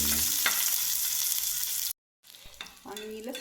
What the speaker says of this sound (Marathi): लसूण पण आहे ना हलकासा गुलाबी रंगावर तळून घेते छानपैकी.